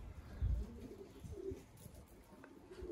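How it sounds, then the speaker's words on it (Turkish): A young homing pigeon coos to its mother in soft, low calls, one stronger coo early and fainter murmurs after, close by with no voices. "Bakınız, o da ilk oğullarından anasına ötüyor."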